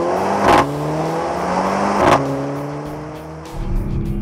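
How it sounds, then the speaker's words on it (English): A turbocharged Hyundai Genesis coupe's engine revving in rising and falling sweeps, with loud sharp bursts from the exhaust at each gear change or lift-off, close and prominent. "the exhaust pops and crackles in the process"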